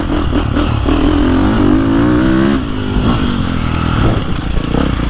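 A 2024 Beta 450RX dirt bike engine revs loudly and continuously while being ridden, the motor pitch rising and falling through gear changes with a steady rough roar close by.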